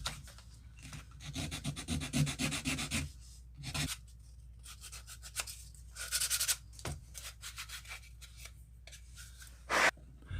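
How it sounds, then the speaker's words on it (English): Sanding by hand smooths the edge of a Sig P320 X5 grip module in short, scratchy rubbing bursts, close and fairly quiet, with brief pauses between strokes. "Let's just sand and smooth this in a little bit"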